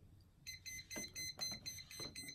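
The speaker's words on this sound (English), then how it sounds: "It'll beep and let you know that guess what? Your liquid is almost at the top." A series of quick electronic beeps from a liquid level indicator repeats in short, rhythmic pulses, close and fairly soft, with faint background noise.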